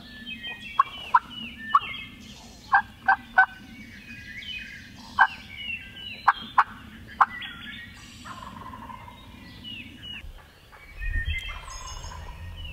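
A hunter on public land works a turkey call to draw in a wild hen, sounding sharp, evenly spaced yelps and clucks close by, with quieter chirping calls between them and a low rustle near the end.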